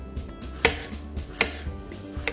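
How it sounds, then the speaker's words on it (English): A knife slicing organic strawberries on a board, four crisp chops spaced about a second apart with light taps between, close and fairly quiet, no voices. "I got some nice organic strawberries here that I'm just going to slice up and put those in."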